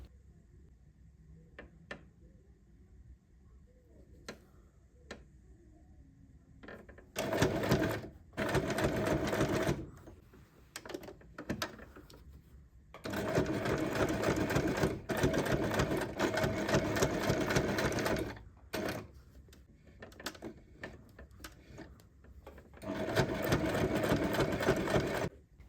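A sewing machine top stitches a needle case, running in several long, steady bursts of rapid mechanical stitching separated by quiet pauses with small clicks and handling sounds, close and clear.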